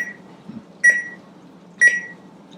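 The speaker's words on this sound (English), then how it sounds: "that's our 5-minute rest timer going off" Two evenly spaced electronic beeps from a kitchen rest timer, moderately loud and close, each with a short ringing tail, over a low background hum while a chicken sheet pan dinner rests.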